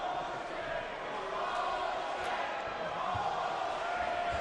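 A large arena crowd at a Mike Tyson boxing exhibition keeps up a steady, distant roar of murmuring and jeering, with no clear peaks.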